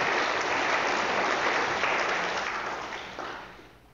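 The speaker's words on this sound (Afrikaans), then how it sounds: "Kom ons gee sommer net 'n lekker hande klapie vir hom." An audience in church claps together in a steady burst of applause that holds strong, then thins and fades toward the end.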